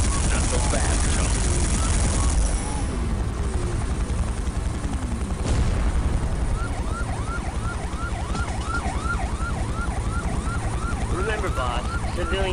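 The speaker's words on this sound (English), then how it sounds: "Surprise. It's a helicopter." A helicopter attack with gunfire in the video game SiN: a loud, steady rotor thrum fills the clip, with siren-like wailing tones and sporadic shots layered on top.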